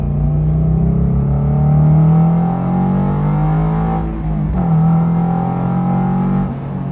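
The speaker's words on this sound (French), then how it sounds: "le moteur boxer il fait un bruit reconnaissable, mais en plus avec cet échappement, vraiment un bruit métallique" A 2023 Toyota GR86's boxer engine revs loud and throaty close by through a metallic-sounding exhaust, pitch climbing steadily with a metallic rasp, briefly dropping off before pulling hard again.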